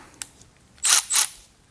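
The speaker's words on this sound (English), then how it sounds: "let's play with our other ratchet here. Let's go reverse." A ratchet wrench set to reverse, worked in a garage on an E92 M3: one small tick, then two quick loud bursts of clicking, close and with no speech.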